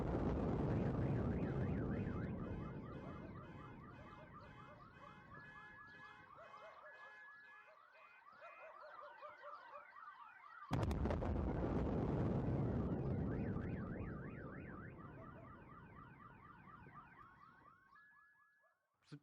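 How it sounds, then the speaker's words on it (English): A skyquake heard as loud cannon-like booms, with wailing car alarms and sirens rising and falling throughout, a sudden sharp boom cutting in midway, then the alarms carrying on and fading toward the end. "it will be very obvious when the skyquake happens, and it is extremely loud."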